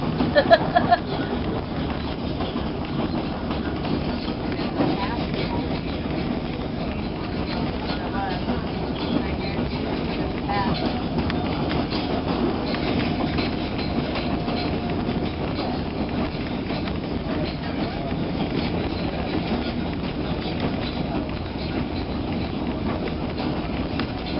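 A White Pass and Yukon Route railway train runs steadily throughout, a continuous low rumble of rolling cars with faint clatter, while voices murmur underneath.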